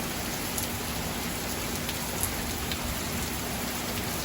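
A heavy downpour hammers steadily on surfaces nearby, a dense, even hiss with scattered louder drops and no voices.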